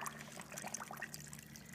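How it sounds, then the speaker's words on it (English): Water pours from a blending jug into a cooking pot while making carne de res con chile rojo, a faint, steady trickle with light splashy bubbling and no talk. "I'm gonna go ahead and pour that in here"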